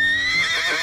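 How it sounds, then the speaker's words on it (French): An old black horse tied at a hitching post outside a sheriff's office lets out a brief, loud whinny, heard close and on its own for under a second. "Un hennissement sur sa gauche fit sursauter le shérif."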